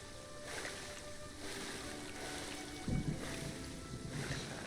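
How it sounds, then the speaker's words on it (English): Rushing, splashing water from a waterfall in the Prehistoric Kingdom park-building game, a steady close wash of noise with a brief louder splash near the middle. "The splash effects. Going down the waterfall."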